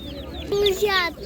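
Chickens clucking and peeping close by at an animal market in Ivano-Frankivsk, with high chirpy calls rising over a low background hum.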